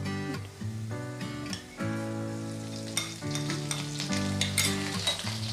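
Ginger paste fries with potatoes and a spice tempering in a pan for a vegetarian Bengali ash gourd and potato curry. A soft, steady sizzle sits under prominent background music.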